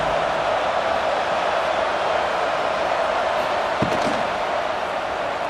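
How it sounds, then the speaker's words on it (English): The home crowd roars steadily at a CFL football game between the Montreal Alouettes and the BC Lions, a dense, continuous wash of stadium cheering with a faint thud partway through and no clear talk. "this home crowd is fired up and ready to make a difference today"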